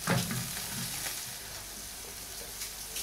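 Butter sizzles in a cooking pan as it is spread around, a steady close crackling hiss with faint scraping from stirring and no talking.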